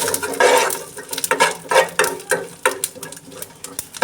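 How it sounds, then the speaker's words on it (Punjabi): Urad dal and a red chilli roasting lightly in a pan, stirred with a utensil that scrapes and clinks against the metal in repeated close strokes over a soft dry sizzle, with no talking. "ਇਹਨਾਂ ਨੂੰ ਹਲਕਾ ਜਿਹਾ ਭੁੰਨਾਂਗੇ ਇਸ ਦੇ ਨਾਲ ਇੱਕ ਲਾਲ ਮਿਰਚ ਇਹਨੂੰ ਵੀ ਆਪਾਂ ਇਹਦੇ ਵਿੱਚ ਪਾ ਦਾਂਗੇ"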